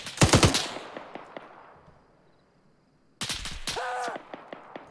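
Loud close burst of rifle fire in Arma 3 at the start, fading into quiet, followed by another sharp volley with ringing echo during a PMC firefight.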